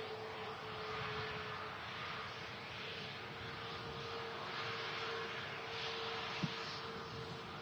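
An aircraft arriving at Manchester Airport through mist makes a steady, broad distant roar that stays even throughout, with no voices.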